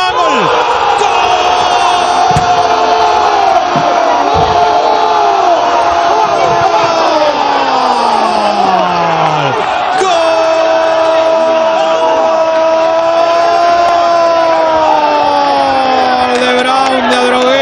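A huge stadium crowd roars and chants after a goal at a Primera B Metro football match, Brown de Adrogué vs Estudiantes, loud and close, with voices swelling and sliding in pitch for the whole stretch.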